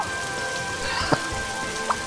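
Rain pattering steadily in the video game Scribblenauts Unlimited, a soft even downpour with a couple of brief louder drops.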